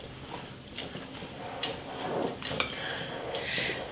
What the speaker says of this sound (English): Folding all of the wet ingredients in with the dry.